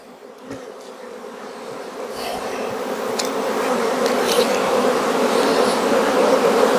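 A dense, steady drone of many honey bees buzzing up close at an open hive during a fall nectar flow, growing gradually louder and fuller.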